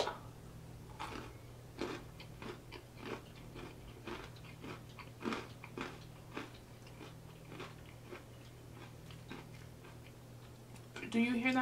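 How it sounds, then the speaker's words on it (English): Extra crispy KFC fried chicken is bitten and chewed close to the microphone, producing repeated sharp crunches in an uneven rhythm over a faint steady hum, with a brief louder rustle at the end and no talking. "Do you hear that crunch?"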